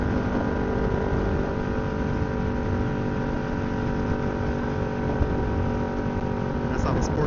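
Kawasaki Ninja 650 sport bike engine on a test ride, a steady loud drone under wind rush throughout, with a slight rise near the end and a voice talking over it.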